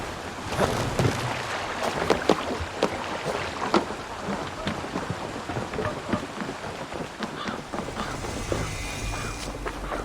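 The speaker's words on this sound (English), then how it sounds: "Let's sail! Dock the ship here." A Viking longship sailing in to dock in Assassin's Creed Valhalla: steady water wash against the hull with splashing oar strokes and creaking wood, a continuous moderate bed of sound with scattered sharper knocks.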